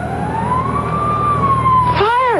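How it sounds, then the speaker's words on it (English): A fire engine siren in a radio drama wails in one long sustained tone, then sweeps sharply up and down near the end, loud and close over a low engine rumble. "Fire engine?"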